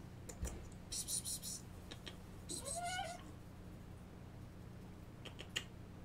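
A pet cat meows indoors a few times, short plaintive calls close by, mixed with soft keyboard or mouse clicks and a low hum in the background.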